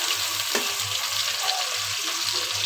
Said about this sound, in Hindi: ये घी गर्म हो गया, अब इसमें मैं प्याज डाल रही हूँ।